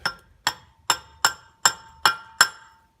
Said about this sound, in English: Install it back onto the fuel lift pump primer. A few light taps should do it.